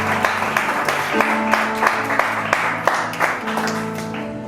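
A church congregation claps in acclaim after a scripture reading, rhythmic group clapping with distinct sharp beats over sustained music or singing, moderately distant.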